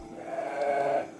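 A sheep bleats once, a single drawn-out, wavering call lasting about a second, close and fairly loud against light background noise.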